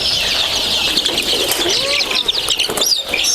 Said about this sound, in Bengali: দেখেন কেন একদম চিকচিক একটা শব্দ হইতেছে